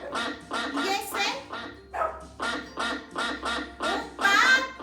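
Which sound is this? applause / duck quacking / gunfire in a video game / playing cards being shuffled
duck quacking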